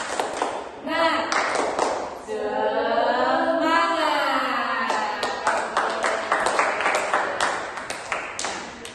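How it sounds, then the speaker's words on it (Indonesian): A class doing the tepuk semangat spirit clap, sharp rhythmic group claps in quick patterned bursts interleaved with voices chanting and calling out loudly in a room. "kita tepuk semangat dulu ya"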